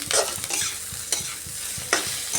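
Chopped ginger fries lightly in oil for a rohu fish-head chachchari, a steady sizzle under quick, rhythmic scraping strokes of a spatula in the pan, close and clear.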